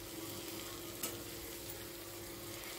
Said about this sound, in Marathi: आता ह्याला हलवून घेऊया।